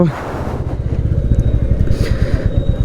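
Royal Enfield Classic 350 single-cylinder motorcycle riding along, a steady loud thumping engine note with rapid low pulses, close to the microphone with some wind and road noise.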